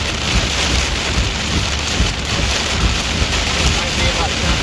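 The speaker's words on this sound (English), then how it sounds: "Heavy rain." Heavy rain pours down hard and continuously during a storm chase in Tennessee, a dense, loud hiss of drops drumming on surfaces with no break.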